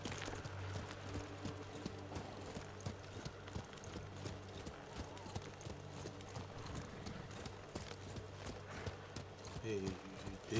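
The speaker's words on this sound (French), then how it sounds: "Il est cassé le cheval là, il arrive pas à galoper." Horse hooves clip-clopping in the samurai video game Ghost of Tsushima, a steady rhythmic trot over continuous game music and ambience, with a voice talking over it.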